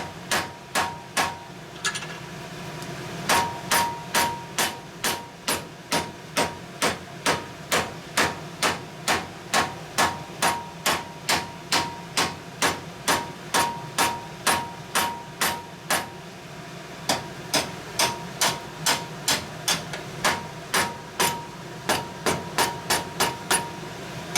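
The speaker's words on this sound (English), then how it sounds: "Pound it into the material." A 20 lb lead deadblow hammer pounds material flat in a shop during flywheel truing work, striking in a long, steady rhythm of loud, close, evenly spaced blows.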